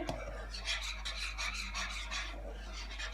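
A utensil steadily scrapes and stirs a thickening egg mixture in a pan for egg barfi, a continuous close rasping rub with a low hum beneath and no talking.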